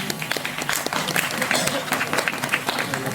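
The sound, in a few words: applause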